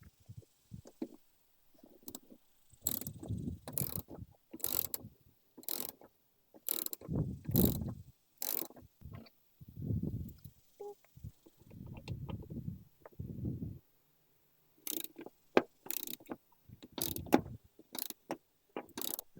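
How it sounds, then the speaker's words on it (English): Two Torx screws being worked out of a Toyota MKIV Supra door panel, with clicky ratcheting and mechanical rattles coming in repeated short bursts between quieter handling noises, close and moderately loud. "Next, we're going to have to take out these two torque screws."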